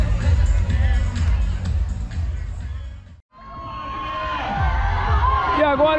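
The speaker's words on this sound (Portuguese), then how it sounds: "Muita gente torcendo, hein?" Spectators cheer and shout from the roadside at the Rio de Janeiro marathon in 2023, a dense, loud crowd roar that briefly drops out, then swells again with whistles and voices over the top.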